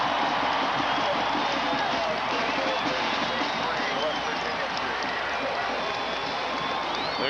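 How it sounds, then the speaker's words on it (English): Stadium crowd at a Penn State college football game, a dense, steady roar of cheering that holds at full level throughout with no break. "The crowd loves it"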